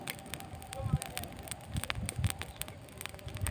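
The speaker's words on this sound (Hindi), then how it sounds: "आप लोग देख सकते हैं हम लोग का आग किस तरह से एकदम लहक रहा है जिसमें हम लोग आलू पका रहे हैं" A wood fire burns outdoors in a village, roasting potatoes, with soft crackles and pops scattered over a low airy rush, close by, while someone talks over it.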